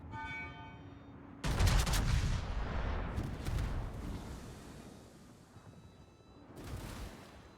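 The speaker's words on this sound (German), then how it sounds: "Werde jetzt auch gut beschossen." Heavy naval shell impacts strike a Sinop battleship in World of Warships, a burst of loud booming blasts at the start followed by rumbling, with a second volley of hits near the end.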